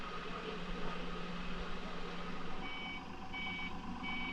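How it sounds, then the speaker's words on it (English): A forklift in a boatyard backs up to shift a stalled pickup truck, its steady reversing beeps repeating over a constant engine drone and broadband machinery noise, close and continuous with no talk. "the boatyard staff is using a forklift to get this pickup truck out of the way"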